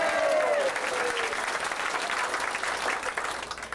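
An audience at a country comedy show applauds and cheers, a dense sustained wash of clapping with whoops rising early, then gradually thinning.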